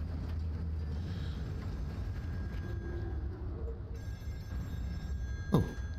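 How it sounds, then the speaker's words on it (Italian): An old telephone ringing in the horror game Still Wakes the Deep, a faint repeated bell under a low mechanical rumble, with a sharp knock near the end. "Oh, telefono?"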